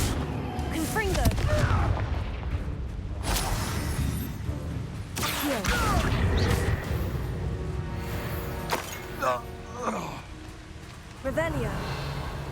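A Confringo fire spell blasts in Hogwarts Legacy, a loud booming burst among crackling combat effects and repeated impacts, with a voice speaking over the fight.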